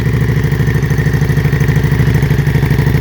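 A Harley motorcycle engine idles high just after startup in neutral with a fire brand muffler, a loud, close, steady rhythmic lope with throbbing exhaust pulses and no talk.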